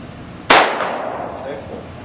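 Single pistol shot fired during basic handgun training, with one sharp loud crack followed by a short decaying ring in an indoor space.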